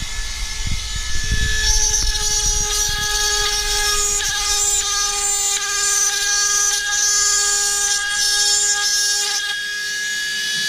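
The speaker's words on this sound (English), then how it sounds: "With a Dremel, I've just got a very fine Fisher burr." A Dremel rotary tool fitted with a very fine burr drills holes, giving a steady high-pitched whine that holds for several seconds over a low background hum, close by.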